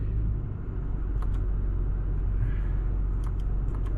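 A Toyota Camry engine idles with a steady low rumble just after starting, dense and constant, with a few faint high ticks near the end and no voices.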